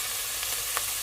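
Beef chunks for beef bourguignon sizzle steadily in a hot pan, a close, even frying hiss with a couple of faint scrapes from a slotted spoon lifting pieces out.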